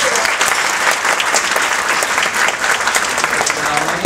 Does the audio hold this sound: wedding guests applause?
yes